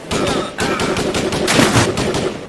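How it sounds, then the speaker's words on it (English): Rapid automatic gunfire in a toy ocean animation about shark poachers fighting, loud sustained bursts of shots with a short break, dense and close. "Nice shooting, John!"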